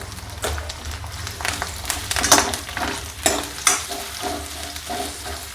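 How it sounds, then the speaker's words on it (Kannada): Onion fries in hot oil with curry leaves, a close, crackling sizzle broken by repeated scraping strokes of a spatula against the pan at an uneven rhythm. "ಈರುಳ್ಳಿ ಫ್ರೈ ಮಾಡ್ಕೊರೋಣ್ರಿ"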